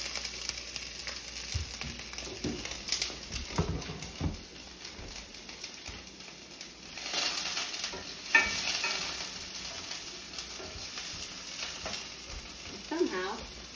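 Food sizzles and crackles steadily in a very hot pan for tomato-sauce pasta, with stirring scrapes and louder bursts as pieces slide in; no talking.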